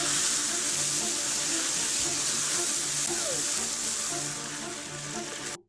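Hot deep-fryer oil sizzles and hisses loudly and continuously as a frozen turkey meets it, a dense crackling wash close by that holds for several seconds before cutting off abruptly.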